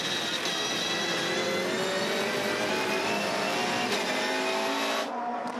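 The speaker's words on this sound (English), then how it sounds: "Great sound of the Volvo S60 leading the way." A Volvo S60 V8 Supercar engine roars at high revs close by at Albert Park, a continuous loud snarl that drops away abruptly at the end.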